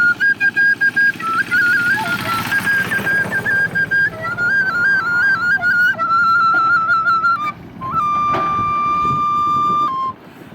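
A Turkish folk pipe whistle (düdük) plays a wavering, ornamented folk-song melody of held and sliding notes, loud and close, with a brief pause before a final long tone.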